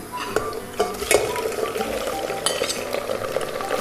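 Half a kilo of mutton goes into browned onions in a pot, bringing steady sizzling and frying with scraping stirs and metallic clinks of a spoon against the pot, close and continuous.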